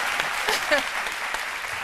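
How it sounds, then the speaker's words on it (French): A studio audience on a midday TV talk show applauds as guests are welcomed, a steady, dense wash of clapping that fills the whole moment at moderate level. "On les applaudit."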